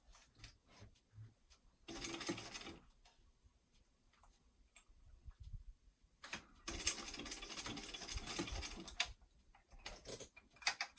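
A sewing machine basts across the top of fabric for a weekender travel bag in short bursts of rapid ticking stitches, quiet pauses between runs, close and fairly faint.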